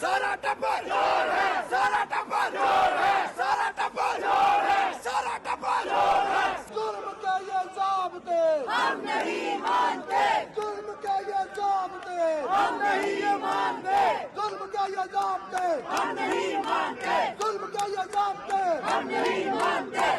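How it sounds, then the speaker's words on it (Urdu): A street protest by supporters of Imran Khan and the PTI, the crowd chanting anti-government slogans; loud rhythmic call-and-response chanting from many voices, repeated in bursts, with crowd noise between the chants. "مظاہرے میں عمران خان کے حق میں اور حکومت مخالف نعرے بھی لگائے گئے"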